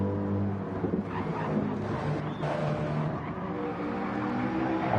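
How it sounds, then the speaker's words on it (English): Race cars drive through the middle sector at Spa-Francorchamps in Gran Turismo 7, with a steady, loud engine drone and shifting pitch as the cars pass, heard alone without talk. "Cars make their way through now the start of the middle sector."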